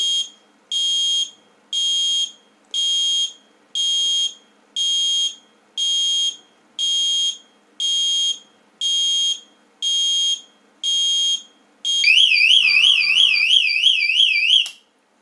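An electric airsoft bomb prop, triggered remotely by phone, sounds its alarm: twelve loud, evenly spaced electronic beeps, then a continuous warbling siren that runs for a few seconds and cuts off.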